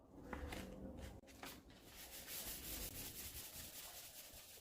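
Car paint being dry sanded by hand with 800 grit sandpaper, a continuous close rasping rub with repeated strokes and a brief pause near the start, alone without talk.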